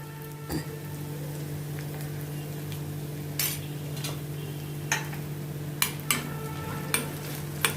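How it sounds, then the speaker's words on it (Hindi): Green chillies sautéing in a pan with crispy baby potatoes for a chilli garlic potato dish: a steady low sizzle, with irregular stirring clicks and scrapes becoming more frequent toward the end. No talking. "इनको भी अच्छी तरह से मैं थोड़ा सौते करती हूँ"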